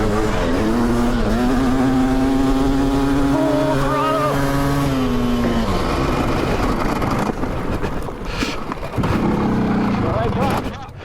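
A powerful electric dirt bike runs at full throttle with a loud, sustained tonal whine that holds steady, then drops away and cuts out before a rougher, noisier burst near the end.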